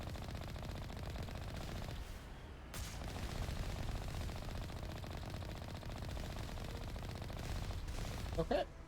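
Sustained enemy turret gunfire in Mass Effect, a dense continuous rattle of shots running steadily through the whole stretch with a brief burst of sharper impacts near the end.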